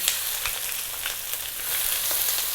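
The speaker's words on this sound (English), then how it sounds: "We're now going to drop in the onion." Onion frying in hot oil over fairly high heat: a dense, continuous sizzle with scattered small pops, close and steady, no talking.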